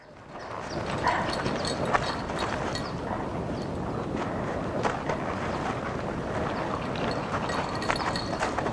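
Steady clip-clop of hooves walking on ground, continuous and fairly close, with wind buffeting the microphone throughout.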